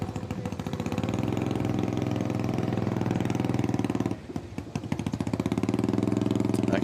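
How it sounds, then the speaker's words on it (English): An unmuffled motorcycle exhaust at a Harley-Davidson hill climb, loud and close, with a rapid throbbing idle and revs that dip briefly midway before resuming their harsh, steady pulse. "I can hear an exhaust in my ear right now that sounds like it's got no muffler"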